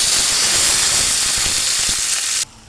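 Curry leaves, dried red chillies, garlic and tempering seeds hit hot oil with a loud, dense, continuous hiss that spits and crackles up close, then cuts off abruptly near the end.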